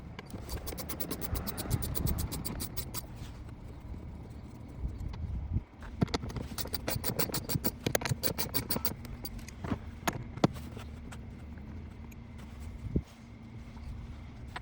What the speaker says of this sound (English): I'm gonna go ahead and loosen these 4 bolts or screws that are holding on the top of the airbox cover